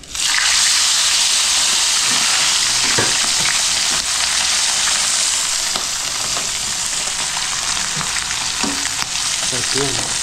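Freshly caught red-eye fish fries in a pan at a seaside meal, giving a loud, close, continuous sizzle with crackles and occasional stirring clinks.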